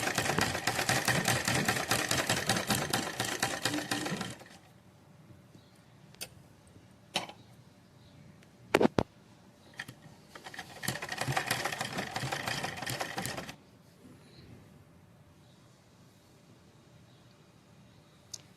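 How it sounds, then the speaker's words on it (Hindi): A sewing machine runs in two rapid rattling bursts as it stitches down the pleats of a Patiala salwar. The bursts are separated by a quiet pause with a few sharp clicks and knocks. "अब हम चुंगटों के ऊपर से सिलाई लगाएंगे ताकि हमारी चुंगटें इधर उधर ना खिसकें।"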